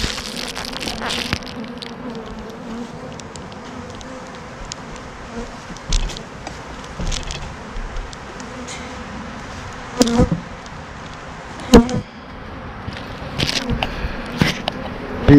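Honey bees buzz steadily from an opened hive during an early spring inspection, a dense close hum with occasional sharper knocks and clatters of hive parts, no talking.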